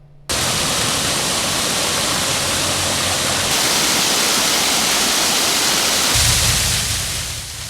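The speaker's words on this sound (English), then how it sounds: "Neosho's Big Spring Park, beautiful park, once featured a waterfall." A restored waterfall in Big Spring Park, Neosho, pours in a steady, full-bodied rush of falling water that stays loud and even throughout, with no voices.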